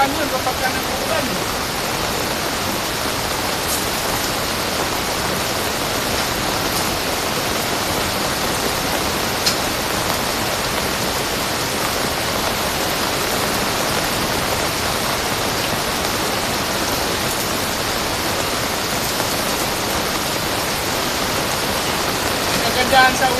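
Heavy rain pouring during an outdoor storm at a welding site, a loud continuous broadband hiss with no breaks, steady and close throughout.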